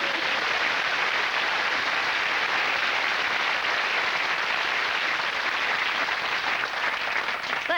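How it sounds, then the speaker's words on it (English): A TV studio audience on a 1997 chat show breaks into loud, dense, sustained applause that fills the room evenly and tapers slightly near the end, with no talk over it. "Give her a round of applause."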